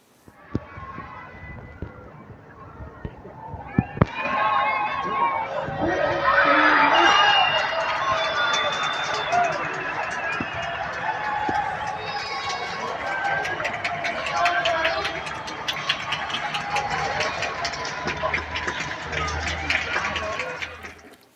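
A large street crowd in Spain cheers and whoops continuously as power returns after a major blackout, many voices blending into a loud roar with scattered shouts and whistles, sustained throughout.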